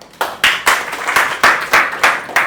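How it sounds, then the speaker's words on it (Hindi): Students in a trigonometry class clap for themselves: about nine sharp, evenly spaced hand claps in a steady rhythm, close and fairly loud, with no talking. "चलो खुद के लिए ताली बजा लो"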